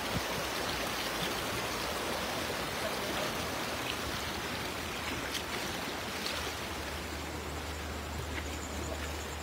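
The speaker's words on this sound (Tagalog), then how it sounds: "Malakas yung agos" Strong river current rushes in a dense, continuous roar at night. It is broad and steady throughout, with no talking over it.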